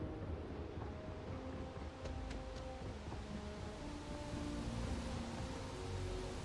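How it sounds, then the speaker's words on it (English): Steady wind rushes in a high area of the video game Starfield, a constant low roar with faint tonal hums and a few brief clicks, no talk. "What is that noise? It's windy up here."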